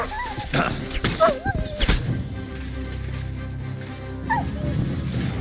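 A dog in the medieval game Kingdom Come: Deliverance II yips and whimpers in short bursts near the start, followed by lower growling under ongoing game sound and a voice speaking.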